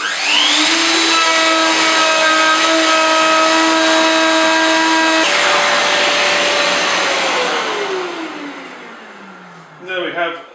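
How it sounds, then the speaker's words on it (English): A Festool OF1400 plunge router whines loudly at high speed, its pitch dropping as it bites into the workpiece during a five-millimetre-deep cut, then spinning down and fading out near the end. "I'm going to do my plunge, lock that off, and here I go."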